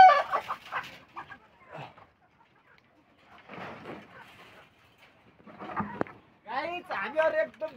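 Chickens on a village farm near Kathmandu, Nepal, give scattered clucks and a few drawn-out calls between stretches of quiet, heard close alongside people talking.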